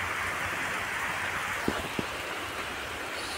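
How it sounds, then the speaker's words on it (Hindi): Steady rain falls outdoors, a dense, even hiss with a couple of sharp nearby drips or knocks partway through, and no talking. "अभी तक बारिश छूटा नहीं"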